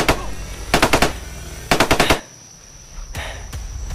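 Machine gun fire comes from above in loud rapid bursts of several shots each, separated by brief quiet gaps, with a couple of single shots near the end.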